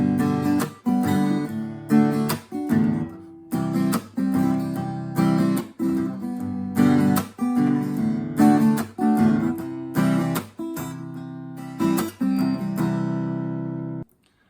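An acoustic guitar strums a country rhythm pattern, chords punctuated by sharp percussive slaps on the strings in a steady repeating groove, close and loud for about fourteen seconds.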